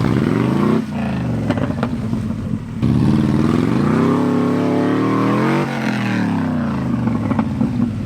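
A heavy 1986 VW Bus, about 4,500 pounds, revs hard while spinning all four wheels on slippery mud, its engine note rising and falling in long loud surges, close by, with no talk.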